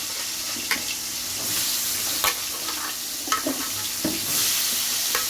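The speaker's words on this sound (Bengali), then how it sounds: "এই যে মিষ্টি কুমড়াগুলোকে দিয়ে দেবো লবণ হলুদ দিয়ে মেখে রেখেছিলাম" Salted, turmeric-coated pumpkin pieces frying in a pan, a steady bright sizzle with occasional stirring scrapes and knocks, close and continuous.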